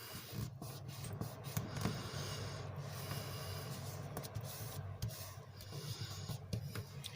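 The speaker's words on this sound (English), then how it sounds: "Burnish down." Steady soft rubbing and scraping as a tool burnishes cardstock flat on a stadium fold card, continuous and fairly quiet with small scuffs throughout.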